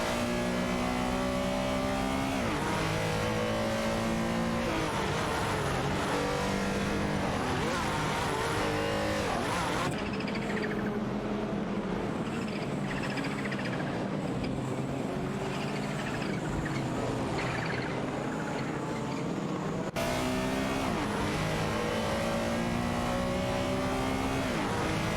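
Porsche race cars, including a 968 Turbo RS and a 944 Turbo, roar around a track in a racing video game. Engines whine and shift through the gears at a constant high volume, and a commentator's voice runs over the racing at times.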